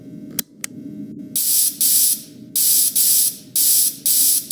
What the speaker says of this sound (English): So go ahead and start spraying the suit, making sure that no electronics were left inside of the suit after removal.